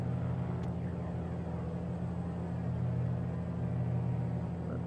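Steady simulated light aircraft engine run-up during a magneto check in Microsoft Flight Simulator 2020, a constant droning rumble holding near-even power throughout with no voices.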